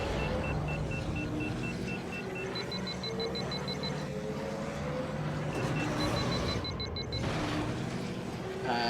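Steady, droning podracer engine of Fud Sang's racer in Star Wars Episode I: Racer, a continuous rumbling whine held at even loudness throughout, with small beeping game cues on top.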